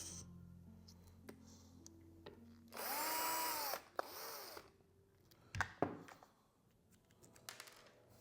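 A power screwdriver whirs in one loud burst of about a second while opening a NUX guitar pedal, followed by a second shorter burst and then clicks and taps of loose parts and screws.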